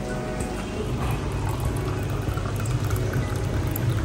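Water runs steadily from a kitchen tap, a continuous splashing hiss at even loudness with no voices, heard close by during a check on a home FRP filter tank setup.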